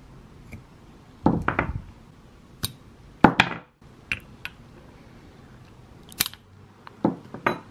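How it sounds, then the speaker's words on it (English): Scissors snip candle wicks on cured rapeseed and coconut wax candles, a handful of short sharp cuts spaced irregularly, close and fairly crisp, with no talking. "I'm just going to trim my wicks."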